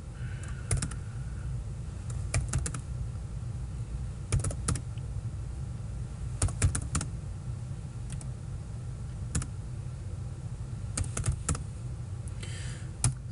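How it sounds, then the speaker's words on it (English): A command being typed on a computer keyboard, scattered clusters of quick key clicks separated by pauses, close and moderately loud over a low background hum, no talking. "Just write the few keywords or few initial letters and press tab."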